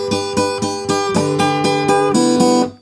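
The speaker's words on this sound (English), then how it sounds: "what I sometimes call a filler strum" An electric guitar plays a Chicago blues filler strum on an open string, with about ten crisp, evenly spaced strums in a steady rhythm, clear and close.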